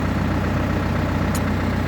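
Tractor engine running steadily in a field while pulling a tine harrow through snow peas, a loud, constant low rumble heard up close with no talk.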